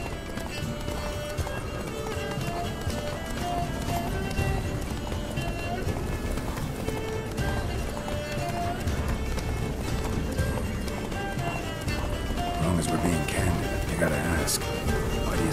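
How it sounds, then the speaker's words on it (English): A horse gallops in The Witcher 3 video game, its quick clip-clopping hoofbeats running continuously and fairly close, with people talking over it throughout. "Run, Roach."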